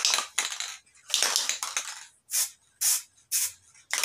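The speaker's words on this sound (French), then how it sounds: "Donc j'utilise ce type de bombe pour l'encollage." A spray adhesive can sprays glue onto car seat foam in a series of short, close hissing bursts with brief gaps between them, a few longer and some clipped.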